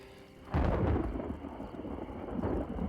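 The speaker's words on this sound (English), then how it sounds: "she heard thunder. It sounded dangerously close" Loud, close thunder breaks out suddenly as a deep rumbling boom and rolls on through the rest of the moment, with no speech.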